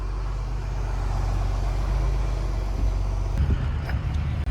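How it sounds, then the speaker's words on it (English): A truck with a blown tire dumps a load of dirt, giving a heavy low diesel rumble that steadies and then breaks into thumping, rattling bursts near the end, with no talk. "Dumping some dirt with a blown tire."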